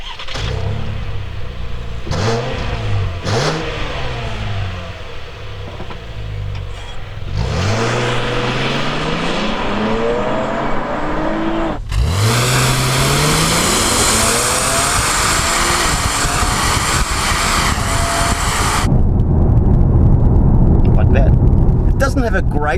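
A 2018 Holden Commodore VXR engine revs hard and accelerates off the line, with repeated rising sweeps as it climbs through the gears, loud and close, ending in a steady high roar.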